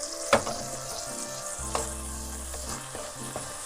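Washed rice toasting in a hot pan for chicken pilaf, giving a continuous close sizzle broken by a few sharp utensil clicks as it is stirred, with faint tonal music underneath.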